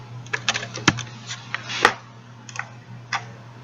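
Someone types a password on a computer keyboard, a sparse run of soft key clicks with short pauses between them, close by and quiet over a faint steady hum.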